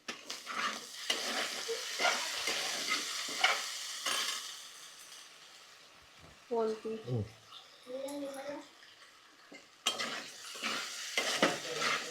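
Potato curry with turmeric being stirred in a pan, giving scraping and sizzling bursts close by, broken by a quieter stretch midway, with a person talking over much of it.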